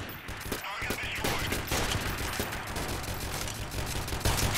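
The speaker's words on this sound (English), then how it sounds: "we're gonna be silenced shooting" Silenced gunfire in the video game Freeman Guerrilla Warfare comes as dense, rapid bursts of muffled shots, loud and continuous through the short stretch, with someone speaking over it.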